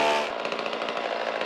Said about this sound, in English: I did not walk in there with a dang chainsaw